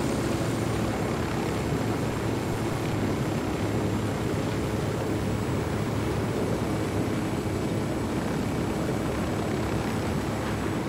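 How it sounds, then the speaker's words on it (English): A helicopter in the video game Ghost Recon Wildlands flies nearby, its rotor and engine making a constant, loud, rumbling drone that holds steady without pause and with no talk. "Don't need that chopper."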